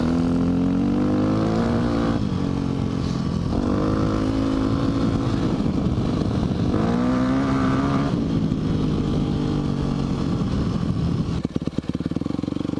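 Motocross motorcycle ridden around a dirt practice track, its engine loud and continuous, rising and falling in pitch as the rider works through the gears and throttle over the lap.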